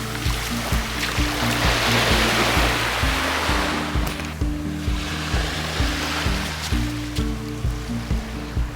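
Ocean waves wash onto a Florida beach with a wide sandbar, a continuous surging hiss that swells and fades, with a rhythmic low pulsing beat underneath.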